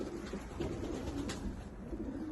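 Austrian homing pigeons from a long-kept breeding line coo softly and continuously, a low rolling murmur that stays fairly quiet and close, with no talk over it.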